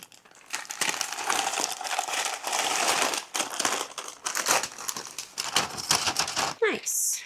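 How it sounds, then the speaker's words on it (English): Flour poured off parchment paper into a bowl gives a crinkling, rustling paper noise with soft sifting hiss, continuous and close for several seconds. "So I am going to put this flour back into this bowl."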